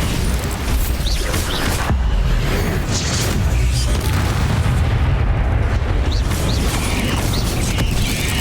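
Booming spell blasts from the Bombarda spell in Hogwarts Legacy on Nintendo Switch, played as loud, dense rumbling explosions over continuous game noise with heavy low-end impacts throughout.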